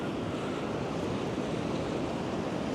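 Wind and heavy rain batter Blackpool promenade in a dense, continuous roar that stays loud and steady throughout with no let-up, buffeting the microphone.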